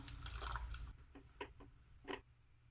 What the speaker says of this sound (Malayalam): ഒരു കപ്പ് വെള്ളം കൂടി ചേർക്കാം